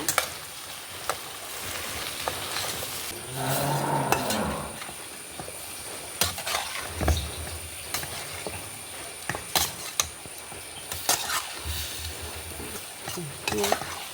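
Onion and tomato paste frying in a pan for a vegetable kadai, giving a steady low sizzle broken by repeated scraping and stirring clatters, close by with no talk.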